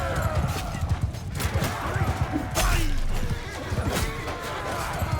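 Horses neigh and whinny amid a battle in Mount & Blade II Bannerlord, with hooves clopping, clashing weapons and crowd noise all around, loud and busy.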